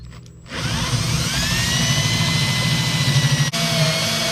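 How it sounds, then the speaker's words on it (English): Hole saw drilling a hole in an Audi Q7: a brief quiet start, then a loud, close, steady high whine with a low grinding rumble, holding to the end with a short dip partway through. "With the kit you get a hole saw, and that looks like this."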